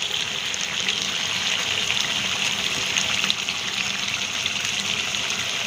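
Potatoes added to a hot pan for cooking, producing a steady hissing sizzle that stays fairly even and close throughout.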